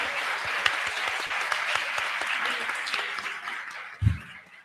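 Audience applause at a spiritist congress fills the hall with steady clapping that fades out, and a low thump lands near the end.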